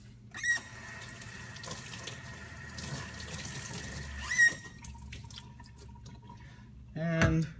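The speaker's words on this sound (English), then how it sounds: "A quick little rinse." Running water from a tap rinses the freshly lapped, sanded surface of a chain box, a steady splashing stream that briefly surges and drips, with a person speaking over it.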